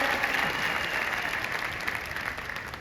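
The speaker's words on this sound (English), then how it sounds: "Let's give them a big, nice round of applause" Conference crowd in Las Vegas gives a sustained round of applause for home office leadership, a thick, steady wash of clapping with no voices on top.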